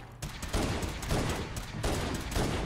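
Rapid bursts of gunfire in the Fallout 4 video game, loud and close, cracking in quick repeated volleys across the whole stretch with no talking.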